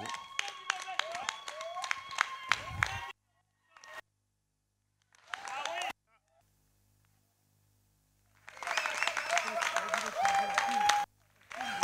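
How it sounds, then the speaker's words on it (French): Bursts of audience applause at a festival closing ceremony, broken by abrupt silences, with loud sharp claps and crowd noise returning strongly near the end. "je vais vous demander, vous, à tous les artistes ici, de vous lever et de lever vos bras en l'air pour l'applaudir"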